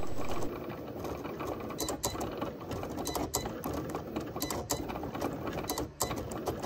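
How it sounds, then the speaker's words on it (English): A Cricut cutting machine cuts vinyl figure designs, its small motor whirring and ratcheting steadily at close range with rapid mechanical clicks and gear chatter throughout. "So now that we've run everything through the Cricut, we've cut things down into some smaller, more manageable pieces"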